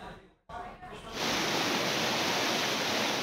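Floodwater surges through a breached embankment in flood-hit Bangladesh, rising into a loud, continuous roar of rushing water after a brief moment of quieter sound with a spoken voice.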